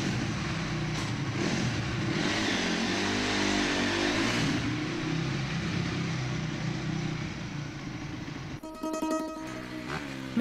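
Motorcycle engine droning and revving steadily at moderate distance for most of the stretch, its tone rising and falling, then fading as a brief burst of music cuts in near the end.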